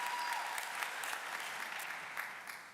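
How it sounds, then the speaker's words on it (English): Brief applause at a university history department commencement, a steady patter of many hands clapping at moderate distance for a graduate not present, fading slightly toward the end. "we can clap real quick for Olivia"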